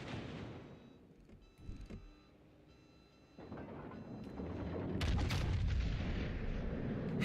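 Enemy gunfire in a video game, a rumbling mix of distant shots and booming blasts that builds from scattered reports into heavier, continuous firing toward the end.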